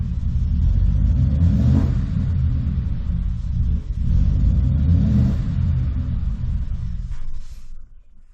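A truck engine surges and revs up and down on its own, a loud, close rumbling drone that swells in waves before dying away as the engine shuts off near the end.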